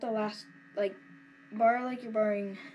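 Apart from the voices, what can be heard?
No everyday noise stands out behind the speech.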